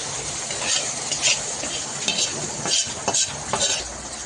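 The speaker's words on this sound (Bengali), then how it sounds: "চিংড়ি মাছ ভাজা হয়ে গেছে এবার তুলে নিচ্ছি" Shrimp frying in a pan gives a continuous dense sizzle, with spatula scrapes and stirring knocks recurring throughout, close and fairly loud.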